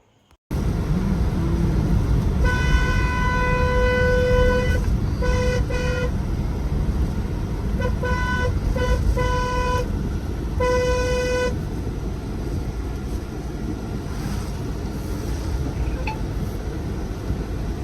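A Mahindra Bolero's horn sounds in a series of honks while driving on a turning road: one long blast, then short pairs and a final burst, all over a constant engine and road rumble.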